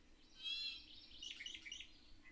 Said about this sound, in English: when they open their beak to sing, some people might describe it as someone forgetting to oil a door with creaky hinges